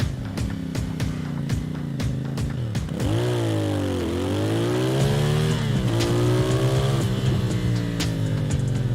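A CFMoto motorcycle engine, miked on the bike, heard close and loud through quick throttle blips and then longer revs climbing and falling in pitch, with no talking.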